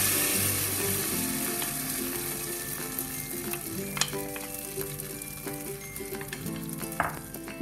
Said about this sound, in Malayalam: ഇതിലോട്ട് തയ്യാറാക്കി വെച്ചിരിക്കുന്ന മാവ് ഒഴിച്ചു കൊടുക്കാം